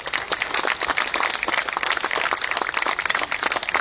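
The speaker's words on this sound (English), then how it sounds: "Big applause, please." An audience at a live public event in Goa gives dense, steady applause that carries evenly for nearly four seconds without any talk over it.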